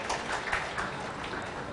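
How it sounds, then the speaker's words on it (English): Audience at a smart city summit applauding a guest invited on stage, a brief, moderately loud burst of scattered clapping. "Mr. Prakash Rane, round of applause."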